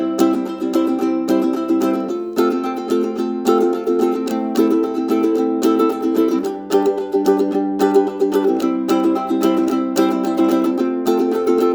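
A ukulele strums a chorus in a steady, brisk, up-tempo chord pattern with regular chord changes, bright and close, with no voices.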